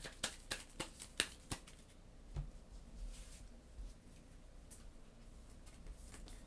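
Cards from a Slay the Spire board game draw pile handled and shuffled: a quick run of sharp, crisp riffle snaps at first, then softer rustling and sliding of cards, fairly quiet and close, with no talking.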